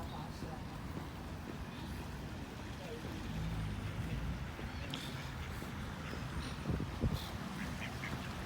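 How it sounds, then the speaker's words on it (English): Ducks quack intermittently and fairly faintly on the Isle of Wight, nearly lost in steady outdoor noise with passing traffic rumble and a louder burst near the end. "Ducks."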